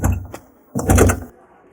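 A car door shuts twice with heavy, solid thuds, the second one longer and fuller, close and loud with no talk.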